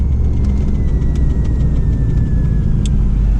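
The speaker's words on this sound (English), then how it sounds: "So we are driving the Kit car." A Mustang-based KITT replica car drives along with a steady, loud engine rumble and road drone heard from inside the cabin, with a faint whine above it and no talking.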